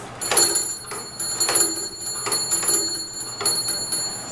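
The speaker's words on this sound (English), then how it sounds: "The bell would have sounded almost similar to this." A small servants' call bell rings in repeated bursts, about four quick jangling peals spaced evenly, bright and close with no talking.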